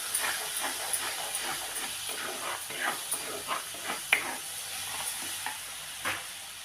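Onions frying in a pan for a Sankara fish curry, a steady sizzling hiss broken by frequent stirring scrapes and small pops, close and moderately loud, with no talking.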